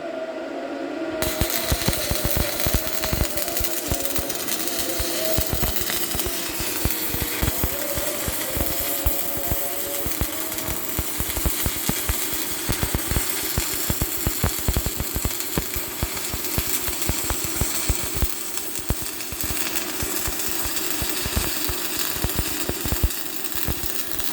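Arc welding with a stick electrode, a loud continuous crackling buzz full of rapid irregular snaps and pops, steady and close for the whole stretch after a brief quiet start.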